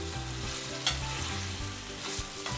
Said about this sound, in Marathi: आणि व्यवस्थित मिक्स करून घ्यायचं आहे।